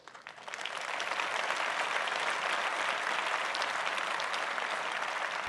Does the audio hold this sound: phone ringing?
no